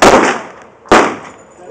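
Two loud gunshots at an outdoor shooting range, the first followed by a long decaying echo and the second coming close after it, each a sharp, close blast.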